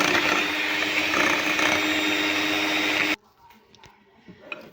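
An electric mixer whirs loudly and steadily through cake batter with added milk, a dense continuous motor drone that cuts off abruptly, leaving quiet room noise with a few faint clatters.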